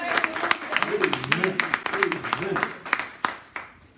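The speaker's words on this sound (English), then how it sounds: "give me one more good hand clap" A church congregation claps hands together during a sermon, a dense run of sharp claps lasting several seconds that thins toward the end, with a preacher's voice speaking over it.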